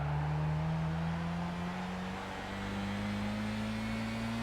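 A race car engine in Gran Turismo 5 drones loudly and steadily, its pitch climbing smoothly as the throttle comes on, with no talking over it.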